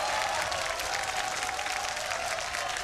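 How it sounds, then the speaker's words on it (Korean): A crowd claps steadily and loudly throughout, a dense, continuous wash of applause with no voices standing out. "박수 한번 더 부탁드릴게요"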